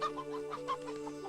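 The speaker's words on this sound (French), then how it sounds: "Et voilà une poule pour les œufs frais." A hen clucking in a short series of soft, rhythmic clucks, close but quiet, with no talking over it.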